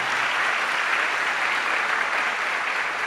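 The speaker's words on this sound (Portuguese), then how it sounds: "Uma salva de palmas para os diáconos e esposos" A Catholic Mass congregation applauds the deacons and their wives in a sustained, even round of clapping that fills the whole stretch without any voices.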